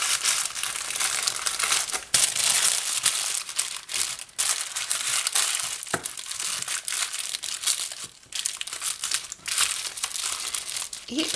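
Baking parchment paper crinkles steadily as it is wrapped tightly around a zucchini roll with chicken, bacon, mushrooms and cheese, a close, dense crackling with brief pauses between handfuls.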